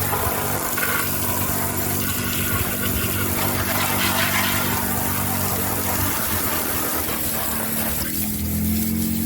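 A power washer sprays 120-degree water to blast concrete-hard caked mud off a Honda TRX250R quad, a steady loud hiss and rush of water over a constant pump drone, with no talking.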